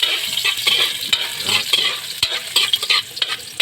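Ginger sizzles in a hot pan alongside being stirred, with a bright continuous crackle and several scraping utensil strokes, close and loud, no talking.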